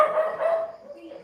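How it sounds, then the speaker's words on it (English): A dog barks in a brief, fairly loud yelping burst at a home in the Philippines, with a voice close by. "They're barking for a reason."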